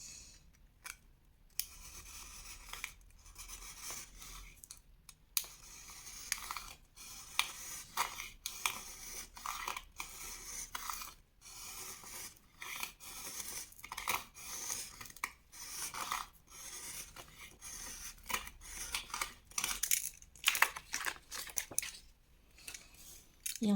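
Scissors snip repeatedly through paper that has been glued down, a craft cutting job for a scrapbook-style Advent wheel calendar; close, crisp cuts and rustling come in irregular bursts with short pauses and no talking.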